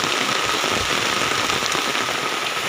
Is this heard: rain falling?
yes